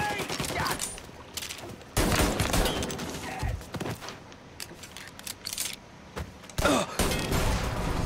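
Gunfire in the Mafia video game, repeated bursts and single shots at close range over a noisy backdrop, with louder volleys near two and seven seconds; a voice talks faintly underneath.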